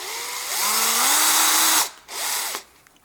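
An electric drill fitted with a 2 mm bit bores into a broken bolt stuck in a deep recessed hole, whining loudly and steadily with pitch shifts, then a short pause and a second brief burst.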